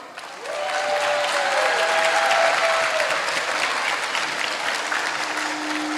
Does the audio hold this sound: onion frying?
no